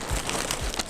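Plastic wrapping around a package of beading supplies crinkles and rustles as it is torn open, a short burst of close, crisp crackling with no voice.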